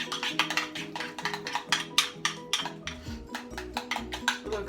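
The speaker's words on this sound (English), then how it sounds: "And I continue mixing this" A utensil clinks and scrapes against a bowl as seven layer dip ingredients are mashed and mixed with lime juice, making rapid irregular clatter close up with no speech.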